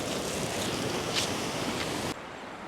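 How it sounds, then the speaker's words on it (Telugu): Canal water rushes strongly past a fishing spot as a loud, dense roar mixed with wind buffeting on the microphone. It drops suddenly to a quieter level near the end. "వాటర్ అయితే బీభత్సంగా పోతున్నాయి."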